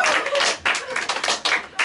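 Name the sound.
clapping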